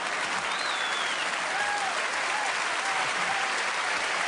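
Audience at a live magic show applauding volunteers, a steady dense patter of many hands clapping throughout, with faint whoops and voices rising above it.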